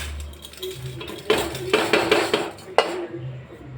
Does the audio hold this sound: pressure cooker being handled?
yes